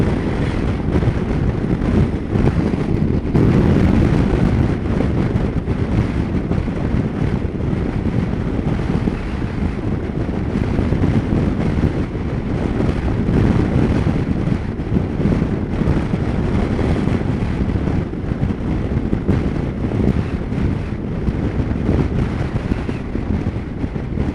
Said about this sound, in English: the wind blows you a little here